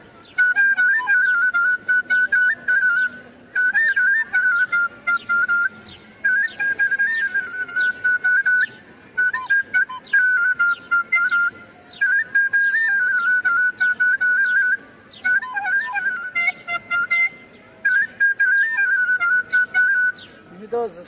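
Short shrill blasts of a whistle repeated in bursts with brief gaps between them, loud and near, with people talking around them.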